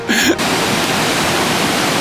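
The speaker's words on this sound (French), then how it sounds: "il y a une belle cascade" A waterfall on a Norwegian road trip gives a steady, broad rushing roar, loud and continuous, after a short burst of another sound at the very start.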